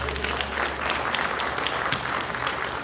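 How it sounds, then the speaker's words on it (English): A convention crowd applauds a kid after a photo price is settled, a full, steady round of clapping from many hands that carries on evenly throughout. "Round of applause."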